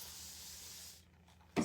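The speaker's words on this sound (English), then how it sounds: "I sprayed some water on it." A spray bottle hisses water onto fabric ink, a steady close hiss for about a second, fading to near quiet, then a short sharp burst of spray at the end.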